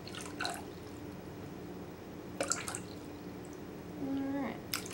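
Water poured into a container while measuring out a batch of hot process soap, heard as a few soft splashing and trickling bursts close by, with quiet pauses in between.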